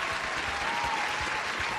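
Brief round of applause from a small group, steady dense clapping heard close for under two seconds.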